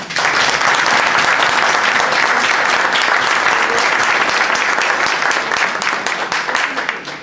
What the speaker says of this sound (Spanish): Para toda la comisión yo pido un aplauso.